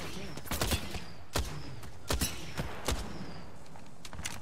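Gunfire in a battle royale video game crackles in several short, sharp bursts spread across a few seconds over a steady background hum of game audio.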